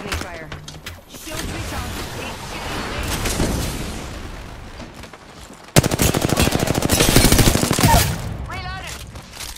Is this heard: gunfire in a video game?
yes